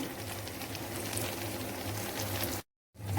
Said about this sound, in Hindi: और इसको हम कर लेंगे शैलो फ्राई।